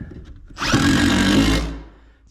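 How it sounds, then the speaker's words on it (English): A power drill bores a small hole in a shop while a diesel heater is being installed, one steady whirring burst of about a second that winds down, close and loud. "we gotta drill a little hole"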